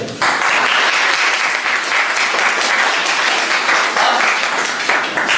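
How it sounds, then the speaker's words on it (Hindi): A class audience bursts into loud, sustained applause, many hands clapping densely and close for several seconds without pause. "मैं चाहूंगा कि एक भरपूर क्लैपिंग।"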